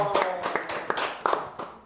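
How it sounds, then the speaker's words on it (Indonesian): Audience clapping at an event about Indonesia's JKP job-loss benefit program: a run of distinct, fairly close hand claps in uneven rhythm, about a dozen strikes, with no talk. "Tepuk tangan lagi dong"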